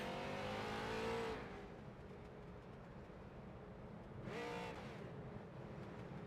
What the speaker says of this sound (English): as the iRacing.com pace car comes around